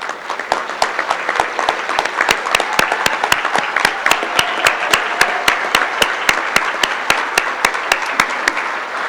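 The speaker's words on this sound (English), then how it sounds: "please stand up for a round of applause." A crowd at a softball Hall of Fame induction ceremony claps steadily, sharp close hand claps standing out in an even rhythm over a broad wash of audience applause that runs throughout.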